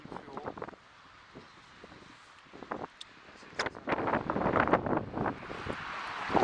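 Strong wind gusting across a gravel pit lake during carp fishing, buffeting the microphone in uneven bursts that grow louder toward the end, with faint rustling and water sounds.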